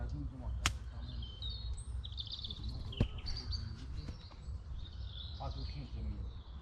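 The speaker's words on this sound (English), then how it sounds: "You can hear all the birds." Birds sing and chirp in quiet woodland, scattered high calls and short tweets over a soft low background, fairly faint, with a couple of sharper clicks nearby.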